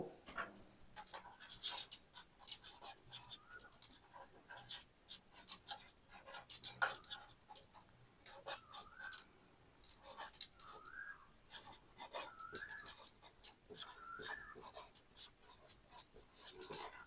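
A pen scratches across paper while someone works a Class 5 maths problem on a rectangular park's perimeter, producing quiet irregular strokes and scribbles with occasional soft breaths in between.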